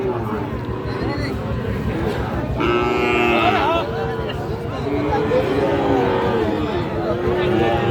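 Sahiwal bull calves and other cattle moo at a busy livestock market, several low calls rising over constant nearby chatter and crowd babble.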